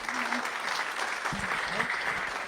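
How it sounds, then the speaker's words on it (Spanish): Audience applause at a closing seminar for an AECID project, a steady wash of clapping held at an even level throughout, with a voice speaking faintly underneath. "un fuerte aplauso para ellas"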